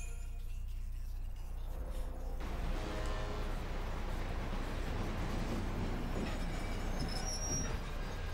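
A train running in the video game Lightning Returns: Final Fantasy XIII, a steady loud rumble with rolling wheel noise and faint high squeals, continuous and close throughout.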